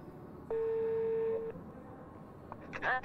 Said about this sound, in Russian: Давайте попробуем сейчас позвонить в один из столичных учебных центров